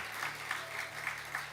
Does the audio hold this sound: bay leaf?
no